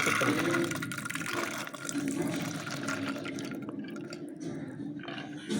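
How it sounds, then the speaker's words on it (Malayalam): Water pours steadily into a pressure cooker holding soaked chana dal, a continuous splashing fill that runs throughout at moderate level with no voices. "നമുക്കിത് നികക്കെ ആവശ്യത്തിന് വെള്ളം ഒഴിച്ച് നമുക്കത് വേവിച്ചെടുക്കാം"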